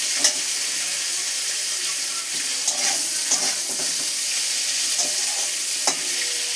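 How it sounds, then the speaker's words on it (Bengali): Potatoes fry in a pan for a prawn, potato and bitter gourd chorchori, a steady close sizzle broken by repeated scraping stirs of a spatula, with no talking. "আলুটা দিয়ে ভালো করে নাড়াচাড়া করব। একটু ভাজা ভাজা হয়ে যাবে আলুটা।"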